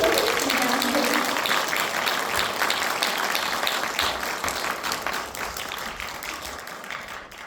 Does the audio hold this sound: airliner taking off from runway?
no